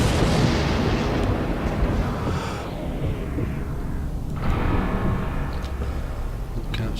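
Sniper Elite V2 sniper rifle shot fires as a loud, heavy boom at the start and rolls off into a long, rumbling echo, followed by a second softer blast.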